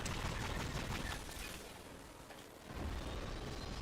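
Rapid automatic gunfire sprayed in Fortnite, loud dense bursts with booming low end that dip briefly midway before resuming, with no talking.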